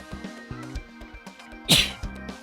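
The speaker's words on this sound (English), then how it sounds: "I need to sneeze really badly." A single sharp sneeze bursts out loudly near the end of a short stretch of Pokemon Alpha Sapphire game music and soft beeps.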